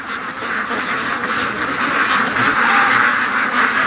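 Many ducks at a lake quack together in a steady, dense chorus from a large flock, loud and close, continuing without pause and with no one talking over them.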